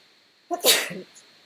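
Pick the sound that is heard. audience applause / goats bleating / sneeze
sneeze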